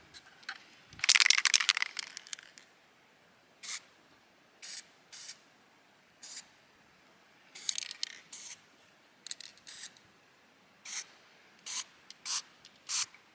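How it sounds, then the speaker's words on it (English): Spray paint from a tin sprayed onto roof bolts to match the roof colour: a long hissing burst near the start, then a run of short, sharp spray bursts repeating at irregular intervals, close and fairly loud with quiet gaps between. "we're going to spray them and see if they match"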